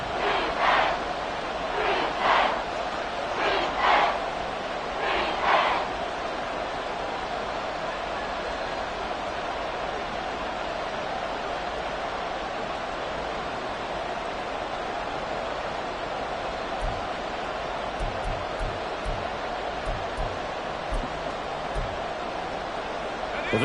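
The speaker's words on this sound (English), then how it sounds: "this crowd trying to force a false start here" Football stadium crowd at a Falcons vs Panthers game roaring loudly and steadily in the fourth quarter, a broad sustained wash of noise to force a false start, with a few louder swells early on.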